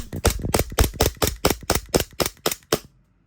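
An Ascend Deadpool Glock 17 airsoft pistol fired rapidly at close range, about eleven sharp snapping shots in quick succession over under three seconds, then silence.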